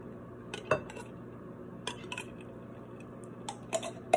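A spoon scrapes and clinks against a tomato sauce can and pan while organic tomato sauce for a low-carb shepherd's pie is scooped and stirred, making scattered close metallic taps over a quiet background hum.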